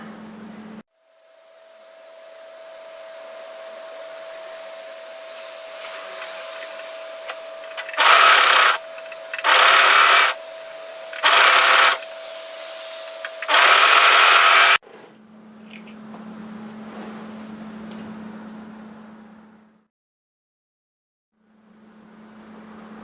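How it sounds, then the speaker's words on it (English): A serger overlocking four layers of fabric into a capelet hoodie shoulder seam runs in four loud, fast, whirring bursts, each a couple of seconds long, between quieter hums and pauses, close up with no talk. "we're going to serge overlock those 4 layers together"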